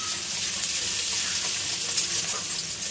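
Chopped onion and green chillies fry in a pan, giving a dense, loud, unbroken sizzle with a faint hiss of steam and no voices.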